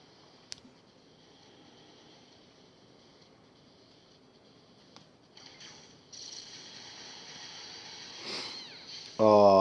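A cat meows in a video game, faint under quiet game ambience, with a louder burst of game sound closing the moment.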